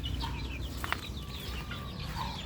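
LDT cross chicks clucking in a pen, soft repeated clucks and chirps over a constant low background hum.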